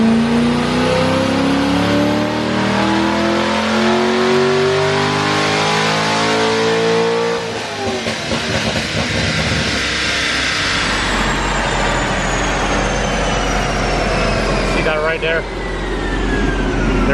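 Stock Corvette Z06 with carbon package revving hard on a dyno, a loud rising engine note climbing steadily for about seven seconds before the exhaust valves open and the tone jumps into a harsher, fuller roar that holds at high RPM.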